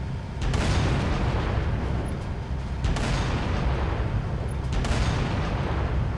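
A tank's main cannon in Halo: Reach fires heavy booming shots, three deep blasts spaced a couple of seconds apart, each followed by a rumbling roar that fills the space between them.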